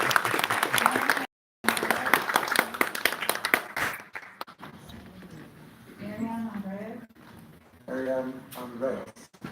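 Applause from the audience at a Torrance city council meeting, a burst of clapping that runs for a few seconds, breaks off briefly, then fades as a speaker begins talking at the microphone.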